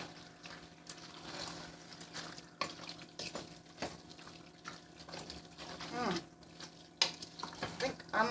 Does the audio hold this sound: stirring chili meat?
yes